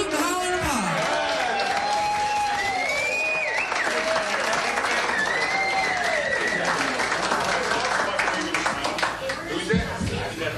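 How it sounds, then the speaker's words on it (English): A television studio audience applauds and cheers for a band, a loud sustained wash of clapping with whoops and tonal cries over it. "Give them a nice round of hoot and holler and applause."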